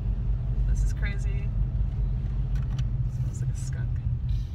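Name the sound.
car driving in heavy traffic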